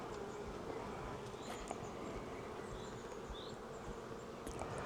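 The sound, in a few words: honey bees buzzing at an open beehive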